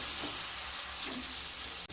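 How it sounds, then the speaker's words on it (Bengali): Spices with Kashmiri chilli powder, ginger paste and a splash of water for chicken curry fry steadily in a pan, a dense, continuous close-up sizzle with soft stirring and no voices. "দিয়ে মশলাগুলোকে খুব ভালোভাবে কষিয়ে নেব।"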